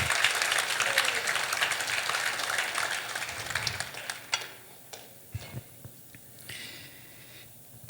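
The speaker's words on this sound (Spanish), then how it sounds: "Si va a aplaudirlo, hágalo bien fuerte." A church congregation applauds loudly, a dense wash of clapping that fills the room for several seconds and then fades to a few scattered claps and quiet.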